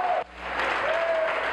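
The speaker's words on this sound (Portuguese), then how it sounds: "aplauda o Senhor Jesus." A church congregation breaks into loud, dense clapping that fills the hall, briefly under a voice at the start.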